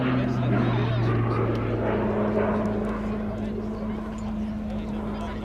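A Texan T1 military training aircraft flies at an airshow, its steady engine drone audible beneath a loudspeaker commentator's talk, gradually fading slightly as it passes.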